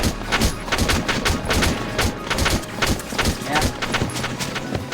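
Rapid gunfire crackles through a Valkyria Chronicles battle, dense overlapping shots rattling almost continuously at close range with game sound mixed in.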